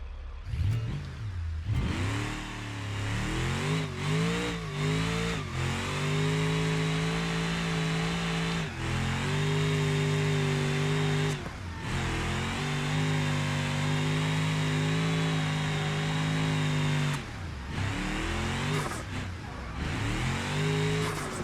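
A car engine revs hard while drifting in BeamNG career mode, a giveaway car sliding through corners. Loud, sustained revving swells and falls repeatedly with short throttle lifts, and no one speaks.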